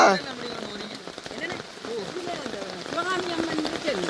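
Heavy rain pours steadily on surfaces in Jaffna while gusty wind swirls around, the wet hiss running throughout beneath a voice and other people talking close by.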